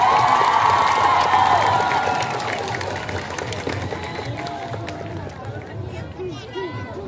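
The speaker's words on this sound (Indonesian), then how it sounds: "Tepuk tangannya mana?" A carnival crowd in Purworejo claps and cheers for a school performance group, loud at first, then fading into a babble of voices and shouting children.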